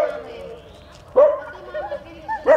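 Dogs of different breeds brought to a children's centre during a traffic police and motorcycle club event give a couple of short, close barks and yips, mixed with a talking voice.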